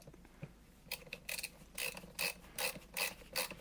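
A hand multi-tool ratchet driver starting a hole for a small screw, giving a quiet rhythmic series of about seven short ratcheting clicks that grow regular after a few tentative turns, with no talk.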